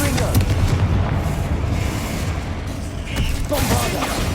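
Confringo fire-blast spell exploding in Hogwarts Legacy: loud booming detonations amid continuous rumbling battle noise, with a sharp burst near the start and another heavy blast toward the end.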